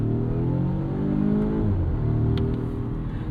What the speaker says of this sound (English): Some zesty shifts from that 8-speed auto.